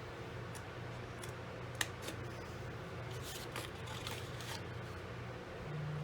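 Paper being cut with scissors or a blade for a craft box, with a few faint, brief snips and ticks over a quiet room hum.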